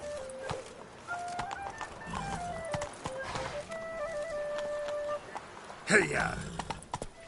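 Roach the horse galloping in The Witcher 3, hooves clip-clopping in a steady rhythm under game music, with a rider's shout and birds faintly in the background.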